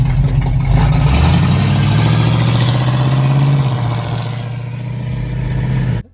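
Chevrolet Corvette engine running loudly, a deep steady rumble that swells slightly as the revs climb, then cuts off abruptly at the end, with no talking.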